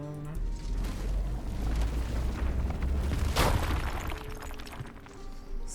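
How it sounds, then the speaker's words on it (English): An explosion goes off in the survival game RuneScape: Dragonwilds, a sharp blast about midway through that rises over a steady rumbling, crackling game soundscape. "Explosion."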